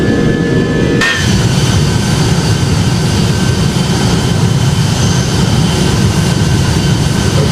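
Simulated Boeing 757 engines of an Eastern Airlines jet spool up to takeoff thrust in Project Flight, a loud steady roar after a sharp onset at one second that holds broadband and constant to the end, with no talk.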